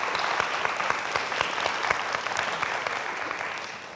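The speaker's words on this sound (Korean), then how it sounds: "박수 한번 대표로 드릴까요?" An audience at a Korean traditional music and dance performance at the National Gugak Center applauds after a haegeum piece. The clapping is dense and steady, fairly soft overall, and tapers slightly near the end.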